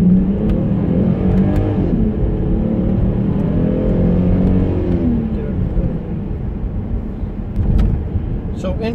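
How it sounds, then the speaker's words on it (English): A 2006 Volkswagen Touareg VR6 accelerating hard from 0 to 60, its engine note rising steadily and loudly in pitch as it pulls through the gears, heard close from inside the cabin. "I'm gonna do a 0 to 60 pull."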